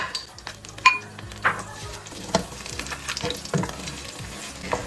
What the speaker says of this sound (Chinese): 接着把蛋和虾倒到锅里，不用太大的火，太大的火容易焦掉。